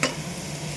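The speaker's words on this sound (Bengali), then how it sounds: "এখন এটার মধ্যে দিয়ে দেবো টমেটোগুলো।" Tomatoes hit a pan of frying onions over a gas flame, giving a soft, steady sizzle with a faint stirring scrape at the start, quiet and close, with no talking.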